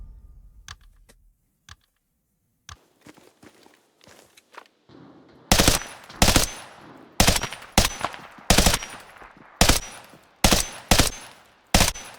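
Gunfire in the shooter game Arena Breakout: Infinite. Quiet ticks and scuffs are followed by a string of loud, sharp shots spaced about every half second.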